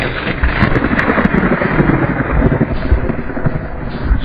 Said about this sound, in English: Then you also hear the thunder strike like this one.